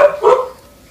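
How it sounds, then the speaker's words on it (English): A dog gives two sharp, loud barks close by, one right after the other, then quiet. "He's barking."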